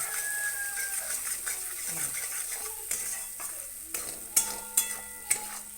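A coconut and dal paste is roasted and stirred in a pan, with a soft, steady sizzle under close scraping and stirring and several sharp metallic clinks of a utensil against the pan.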